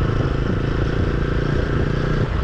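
A Triumph Street Triple motorcycle with an Akrapovic exhaust is ridden along the road with a passenger on the back. Its engine drones loud, close and steady, mixed with rushing wind noise.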